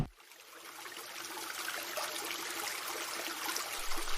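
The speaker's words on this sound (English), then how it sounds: "you should always turn off the faucet while brushing your teeth or hands to save water" Water from a faucet runs in a soft, continuous trickling stream that starts abruptly and carries on evenly, faint and steady with no voices over it.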